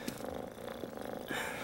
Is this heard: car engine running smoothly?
no